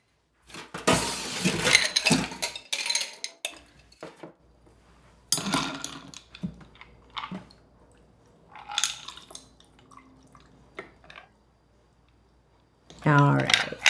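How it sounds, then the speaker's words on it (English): Ice cubes clatter and clink into a cocktail glass for an Old Fashioned, several bursts of rattling, crackling cubes separated by pauses, close and fairly loud. "I am gonna ice my glass before."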